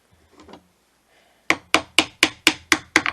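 A chisel pries wood wedges out of a deep inlay recess with a run of seven sharp, evenly spaced wooden knocks, close and loud, after a short quiet scrape.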